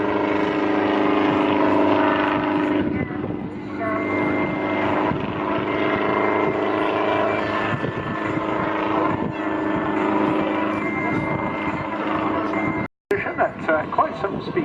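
Otto the helicopter flies an airshow display at Southport, its steady rotor and engine drone continuing throughout beneath a commentator's voice, with a brief dropout near the end.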